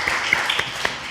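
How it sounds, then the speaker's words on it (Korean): Congregation applause inside a church during a Sunday sermon, a short burst of scattered claps at moderate distance that fades quickly. "와서 조는 게 우리 박수로 한번 해주세요."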